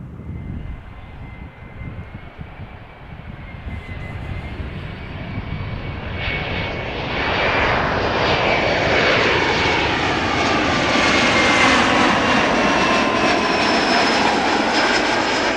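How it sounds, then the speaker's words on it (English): A KLM Embraer 175 jet arriving at Schiphol from Zurich approaches, its engine whine rising and sweeping in pitch as it nears, swelling from moderate to loud over the span. "Next up will be Embraer 175 KLM arrived from Zurich."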